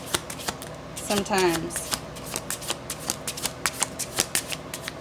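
Tarot cards are shuffled close by in a riffling burst, followed by a run of quick, crisp card flicks and taps, while someone talks briefly over them.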